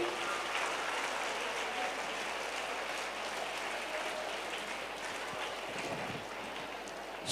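Applause at a school quiz contest ceremony for an honoured guest receiving flowers: a faint, steady wash of many hands clapping at a distance, continuous and diffuse throughout.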